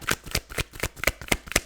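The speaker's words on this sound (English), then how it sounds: "with a little bit more shuffling, if those cards wants to come out" Tarot cards are shuffled by hand in a steady riffling rhythm of about seven crisp, papery bursts, close and clear with no talking.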